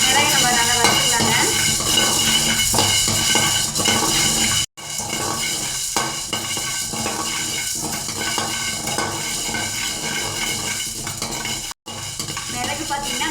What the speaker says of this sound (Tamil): மிளகு நம்ம நல்லா வறுத்துக்கலாங்க.